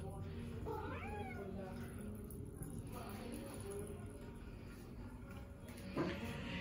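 A cat meows indoors, a few rising and falling calls near the start with another brief cry toward the end, over a low background hum.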